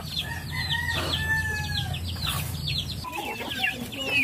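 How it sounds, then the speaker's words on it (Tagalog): A hen clucks among her chicks on a small farm, with high peeping chirps from the chicks and soft clucking close by over low background noise. "Ito na yung mga unang sisiw."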